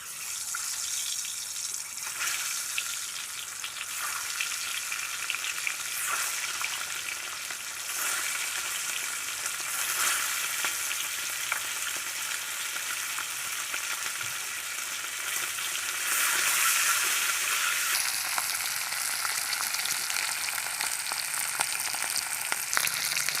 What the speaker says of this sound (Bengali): এই আলু ভাজা তেলের মধ্যে ডিমগুলো ভেজে নেব।